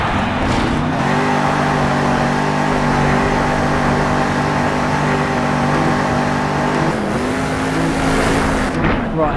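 Monster truck engine in Monster Jam Steel Titans 2, a steady loud droning rev with sustained harmonic whine throughout, pitch dipping briefly near the end, close and continuous without talk.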